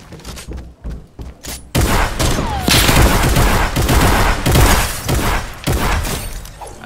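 Rapid bursts of gunfire in Fortnite, loud and close, with dense crackling volleys and sharp shots that dominate after a quieter opening.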